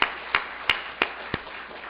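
A church congregation at an evening service claps in unison, five sharp, evenly spaced claps in quick succession, close and crisp with brief quiet between them.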